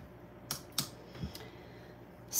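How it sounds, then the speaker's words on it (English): Several soft keystrokes click on a computer keyboard in a quiet room, irregularly spaced and fairly faint. "Who likes typing sounds?"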